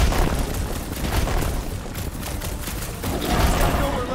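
Crates are smashed during combat in the Guardians of the Galaxy game: a dense, continuous barrage of loud booming crashes and bursts with no let-up throughout.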